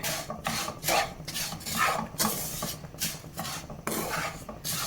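Vermicelli being stirred in a pan with powdered sugar and milk powder for a milk powder pudding: a steady scraping, rasping sound of a spoon dragged repeatedly across the pan in rhythmic strokes, close and fairly quiet, with no talking.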